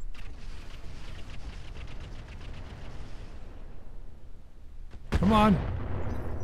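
Mech weapons from the game Roguetech fire at an enemy in a fast series of booming bursts that fade over several seconds. A sharp burst comes near the end, and a voice speaks briefly.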